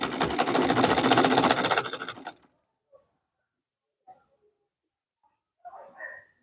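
A sewing machine stitches a Queen Anne neckline dress, running steadily and fairly loud for about two seconds before stopping, followed by a few faint clicks and light handling sounds.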